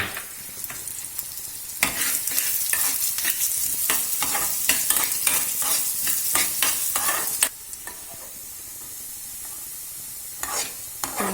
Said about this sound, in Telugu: ఆయిల్ వేసి ఈ కొరియాండర్ సీడ్స్ రోస్ట్ చేసుకోవాలి